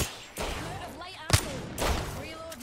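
Gunfire bursts in the video game Apex Legends, a couple of loud sharp volleys close together, with players talking over the shots.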